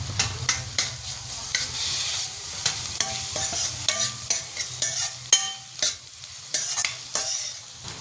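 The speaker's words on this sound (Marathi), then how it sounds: "आता आपण आलं लसूण पेस्ट टाकणार आहोत, ती परतून घ्यायची आहे।" Ginger garlic paste sautés in a pan for fried rice, a soft sizzle under repeated close scrapes and taps of a spatula stirring in an uneven rhythm, with no voices.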